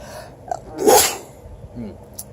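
A single sharp sneeze bursts out near the middle, loud and close, with faint room noise and small rustles around it.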